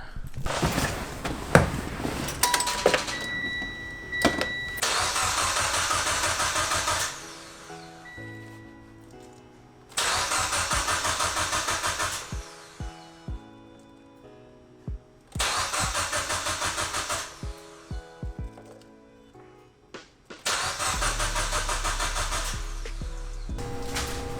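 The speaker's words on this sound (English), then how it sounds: "I'm gonna go ahead and turn the motor over a few times, prime the motor so that way there's oil circulating" Built Mitsubishi Evo X engine turning over with the starter in repeated long cranking bursts separated by pauses, loud and close, with the final attempt catching and settling into a low running rumble.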